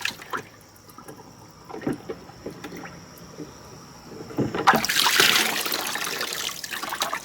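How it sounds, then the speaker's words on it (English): Water sprays out through the freshly unclogged nozzles of a dishwasher spray arm. It starts as faint scattered spatters, then swells into a louder, steady hiss of spray for the last couple of seconds. "I can see water spraying out of it freely."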